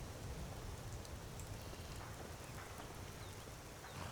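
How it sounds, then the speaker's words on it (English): Steady rainfall on a rainy morning in the video game Skyrim, an even, dense hiss of falling drops with no breaks, soft and continuous throughout. "So it is a rainy morning."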